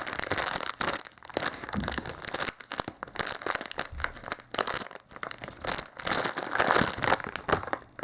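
Plastic packaging around an avocado squishy crinkles and rustles in close, irregular bursts with short pauses, crisp and fairly loud, with no talking.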